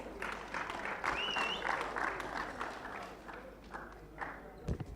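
Applause from a crowd at a boxing and MMA event in Harare, fairly faint and steady with a distant, roomy quality, and a couple of sharper knocks near the end.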